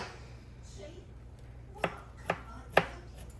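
A knife comes down on a cutting board through garlic in three crisp, evenly spaced chops after a quiet stretch, close and fairly faint over a low background hum.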